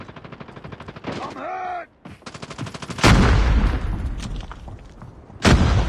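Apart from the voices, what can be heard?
gunfire in Call of Duty Mobile, a video game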